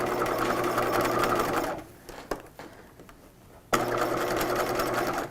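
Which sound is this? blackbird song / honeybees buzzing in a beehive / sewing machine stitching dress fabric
sewing machine stitching dress fabric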